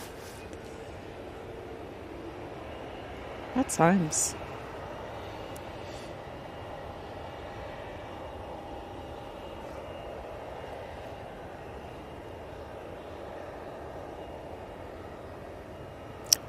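An easyJet jet airliner at Manchester Airport gives a faint, distant, steady engine drone, with a brief spoken remark early on.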